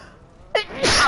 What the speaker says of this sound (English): If I go outside for 5 minutes, I'm sneezing all day.